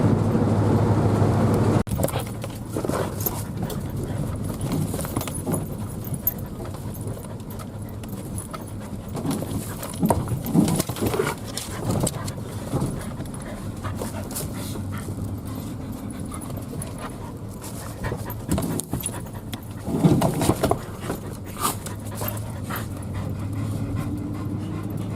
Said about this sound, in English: Dogs are having fun.